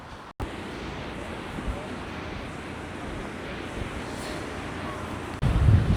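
Wind buffets the microphone in a steady low rumble on a beach in France, with surf hissing faintly behind it and a stronger gust at the end.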